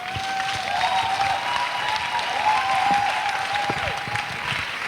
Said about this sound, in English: A big round of applause for Pastor Mildred.